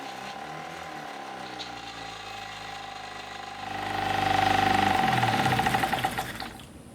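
A project car's motor running right after starting, a steady mechanical clatter and whine that swells louder around the middle and then eases back, heard alone without talk.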